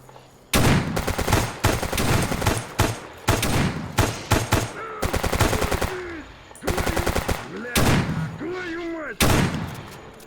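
Automatic gunfire in the video game Escape From Pripyat, loud repeated bursts of rapid shots separated by short pauses, with a voice speaking between bursts.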